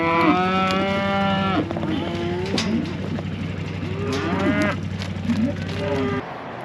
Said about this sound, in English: We're in the dry cow pen right now.